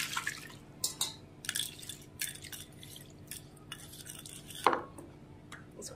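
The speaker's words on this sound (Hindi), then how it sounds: "सबसे पहले इसको हम धो लेते हैं। अच्छा से इसको धो लेंगे" Peeled ginger, garlic and onion being washed in water, with intermittent splashes, drips and light clinks of a bowl recurring close by in short bursts.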